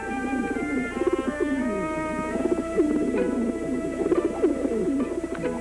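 Young racing pigeons gathered on a starting line before a long race coo steadily. Soft, throaty coos overlap with a few chirps in a busy, continuous flock chorus heard close up, with no talking.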